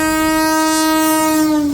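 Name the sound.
Bhavnagar Secunderabad special weekly train passing at speed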